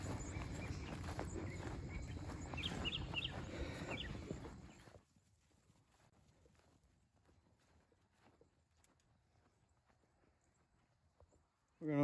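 Horses walk through a gate with a close, rhythmic clip-clop of hooves for several seconds, then the sound stops abruptly and near silence follows.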